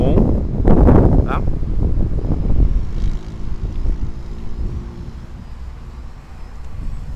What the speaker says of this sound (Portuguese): Bastante vento, ele está resistindo bem o vento